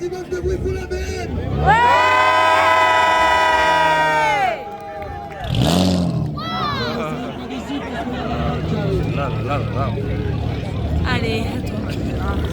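A crowd at a live show cheers and shouts loudly and continuously, with a sustained whistle or horn-like tone rising above the roar early on and a dense hubbub of voices throughout.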